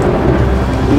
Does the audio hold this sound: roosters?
no